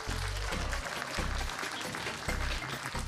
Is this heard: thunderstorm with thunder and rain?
no